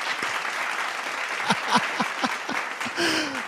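An applause sound effect plays on a podcast, a bright crowd-clapping burst with a few voices talking over it in the room.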